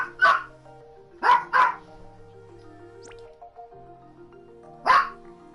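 A female dog barks four times close behind, in a quick double followed by single barks, over quiet sustained background music with no talking.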